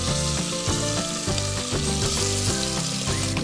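Marinated mutton hits hot white oil already holding bay leaf, dried red chilli and whole garam masala, setting off a loud, steady sizzle and crackle that runs throughout, close up and with no talking.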